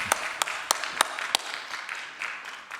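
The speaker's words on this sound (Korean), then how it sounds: "여러분 집에서도 박수 좀 크게 쳐주시면 좋겠습니다." A church congregation at a Wednesday prayer meeting claps in a slow, even rhythm, about five sharp, distinct claps roughly a third of a second apart, then the sound fades into quiet room tone.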